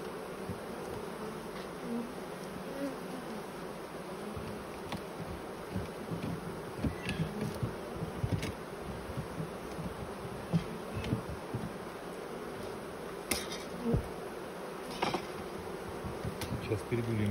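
Honey bees drone steadily around a hive whose colony was damaged by mites, a continuous close buzzing with occasional louder passes of individual bees near the microphone.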